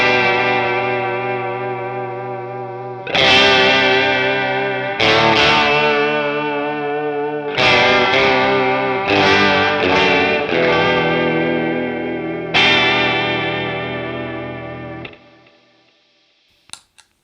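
Electric guitar played through a Red Witch Empress chorus vibrato pedal into a Boss Katana amp with added delay and reverb: sustained, shimmering chords struck in a steady series, each ringing out with warbling modulation before a final fade to near silence.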